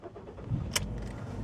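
A 2007 Ford C-Max 1.8 manual's engine is started, with a brief click and a short burst as it catches, then settles into a low, steady idle heard from inside the car.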